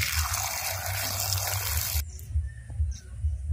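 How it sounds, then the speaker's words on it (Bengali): Black jamun fruit are washed in a bowl of water, with a rushing pour of water at first, then gentle sloshing and dribbling as the fruit are moved by hand, close and fairly quiet. "জামগুলো আলতো হাতে ধুয়ে নেব।"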